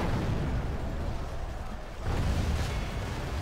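Catapults fire on a gate in a Total War battle, heavy rumbling booms and crashing impacts rolling over one another in a dense, loud wash with a brief dip midway.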